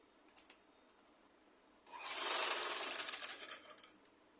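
A sewing machine runs a fast, continuous burst of stitching along a seam on a skirt, close and clear for about two seconds after a few light clicks.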